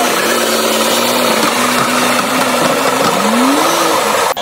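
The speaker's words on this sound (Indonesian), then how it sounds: "Wow, truk sampah juga sudah beraksi." A toy garbage truck's motor hums loudly and steadily at close range, with a low droning whine that rises in pitch near the end.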